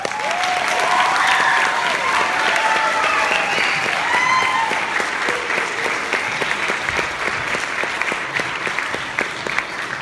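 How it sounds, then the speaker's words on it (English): A pageant audience applauds the contestants at a Miss Hurricane event, a loud, sustained wave of clapping that slowly thins over about ten seconds, with some crowd noise mixed in. "Let's have a round of applause, first of all, for our contestants before we announce our new royalty."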